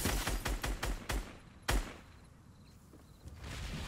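A quick string of sharp Fortnite gunshots, then one louder shot, fading into quiet background noise.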